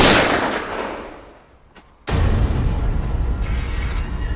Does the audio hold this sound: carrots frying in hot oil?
no